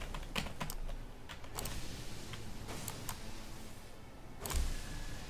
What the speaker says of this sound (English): You hear my keyboard and mouse sounds.